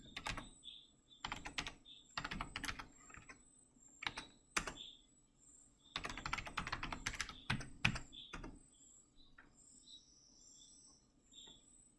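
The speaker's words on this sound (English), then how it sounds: "Type a password of your choice." Keys on a computer keyboard clack in short irregular bursts while a password is typed, with quieter gaps between runs and a steady faint insect-like chirping underneath.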